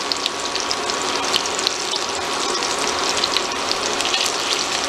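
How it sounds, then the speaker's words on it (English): Pork medallions fry in a pan on a stove at medium to medium-high heat, a steady, close, loud sizzle with light crackling and pops throughout and no talk. "sit it in here and cook it on medium to medium high depending on your stove, and about 3 minutes per side"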